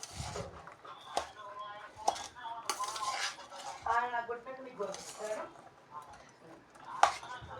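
Food being mixed with lemon juice in a dish gives busy clinks and scrapes of a spoon against the bowl, close and continuous, while someone talks over it.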